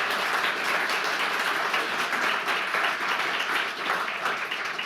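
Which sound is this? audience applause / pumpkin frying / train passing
audience applause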